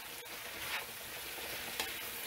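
Georgia Boy smoked sausage fries in a pan with a constant close sizzle, broken by a few brief stirring clicks and scrapes.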